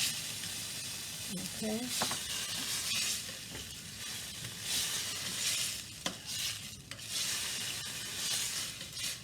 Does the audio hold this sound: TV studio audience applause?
no